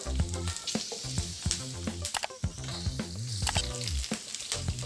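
Oil sizzling in a pan while tempering gongura chutney, a dense crackling hiss with sharp pops, close and fairly loud, over sustained tonal music playing throughout.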